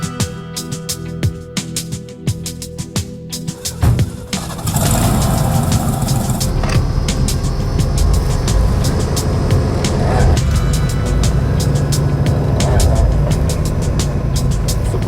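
A tow truck wrecker starts with ratchety cranking, then its engine catches and settles into a loud, steady running drone as it drives around the block, close by, with occasional voices underneath.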